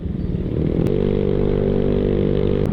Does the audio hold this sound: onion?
no